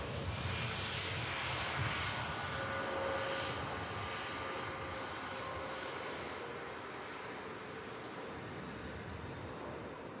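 A very light aircraft taking off down the runway at Manchester Airport, heard as a steady, faint, distant engine drone with broad rushing noise that holds level throughout.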